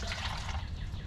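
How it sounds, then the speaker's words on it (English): Water poured into the bottom of an incubator holding Muscovy duck eggs, a soft brief trickle of liquid heard up close over a steady low background. "So we're going to add some water."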